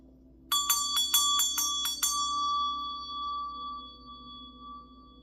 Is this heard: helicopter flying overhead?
no